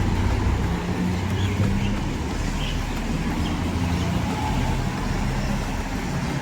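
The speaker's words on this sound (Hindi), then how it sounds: "अब कैसे सब एकदम फाड़ते हुए गाड़ी को जाएंगे" Cars and other vehicles on a street in Samarkand, Uzbekistan, make a steady, fairly loud traffic roar of engines and tyres as they pass near a zebra crossing, with no clear break in the noise.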